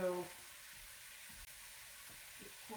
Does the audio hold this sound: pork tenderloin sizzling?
yes